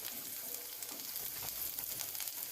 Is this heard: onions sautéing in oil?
yes